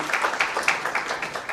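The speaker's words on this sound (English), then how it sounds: "Maybe you can give her a better clap, please." Conference audience applause, a brief burst of many hands clapping in a dense, uneven patter, moderately loud and close, lasting only a moment.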